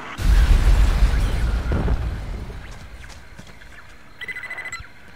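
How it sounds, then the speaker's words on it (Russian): Explosions go off at a factory in the Aliens vs Predator video game, a loud deep blast rumbling and trailing away over a couple of seconds, followed by quieter debris clatter and a short metallic ringing burst. "На заводе тоже продолжает что-то взрываться."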